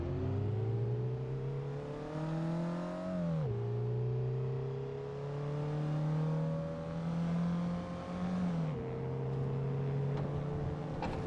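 A Mazda car engine in the Assetto Corsa racing game revs loudly and continuously, its droning pitch climbing through gears with sharp drops at each shift, close and alone without voices.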